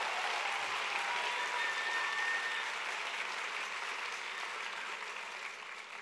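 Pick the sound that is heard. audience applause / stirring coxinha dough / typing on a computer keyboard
audience applause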